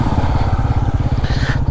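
A motorcycle engine idles steadily close by while the bike is being parked, a loud, even low-pitched chugging throughout.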